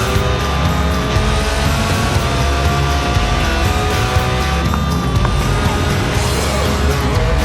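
A mid-engined, rear-drive Lotus Elise Sport 190 roadster, a tuned, stripped-out track-day car, driven in Forza Horizon 4, its engine droning steadily and loud throughout with tire noise and no talk.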